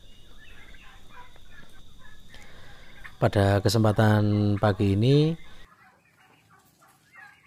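Four-month-old turkeys gobble loudly in a burst of rapid calls inside a laying-hen coop converted for turkeys, while someone talks over a busy background of birds.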